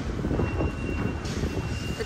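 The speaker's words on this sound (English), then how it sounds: "the train that's going from there" A Thameslink train passing near the River Thames in London, a steady low rumble of rail traffic heard at a distance, continuous across the moment with a faint high tone and city ambience mixed in.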